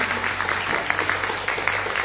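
Steady applause fills an audience hall at a book launch, a crowd clapping for volunteers in a dense, even patter with no pauses.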